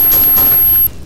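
Rapid gunfire from the video game STALKER fills the moment, a loud burst of overlapping shots that cuts off abruptly near the end.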